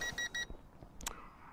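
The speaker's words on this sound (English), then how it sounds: "push the throttle all the way to the top after the beeps" A JJRC H5C quadcopter's controller gives three short, even electronic beeps on startup, followed by faint clicks and a brief rising tone.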